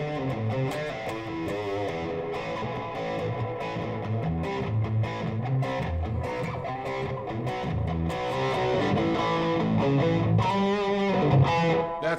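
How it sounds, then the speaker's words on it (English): An electric guitar is played through a treble boost pedal with a little spring reverb. It gives a bright, driven tone on chords and single-note lines, with the reverb ringing under the notes and no talking. "We'll just do a little bit of spring verb,"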